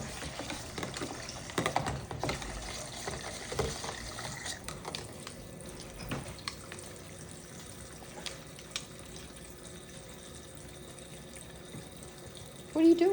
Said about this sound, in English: Put water in the bowl.